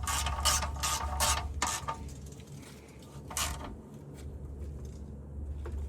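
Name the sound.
ratchet tightening drain bolt on Ford F150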